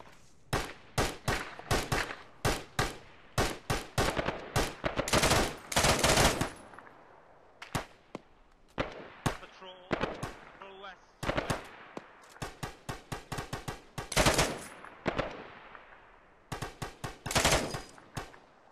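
Bursts of automatic and single-shot gunfire crack repeatedly in an Arma Reforger Falklands battle game, loud close volleys in rapid strings separated by brief pauses.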